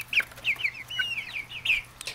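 New Hampshire Red chickens in a hen house cluck in a quick series of short, close calls, with a faint steady hum underneath.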